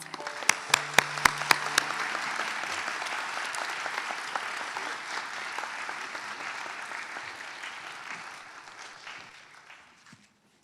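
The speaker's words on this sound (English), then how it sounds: "Let's give them a round of applause." Sustained applause from a sizeable crowd at a dental school White Coat Ceremony, dense and steady, opening with a few sharp claps and tapering off to silence near the end.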